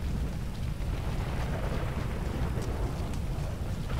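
Steady, dense rainfall from a video game thunderstorm, with a low rumble of thunder rolling underneath throughout and faint sharper ticks of drops near the surface.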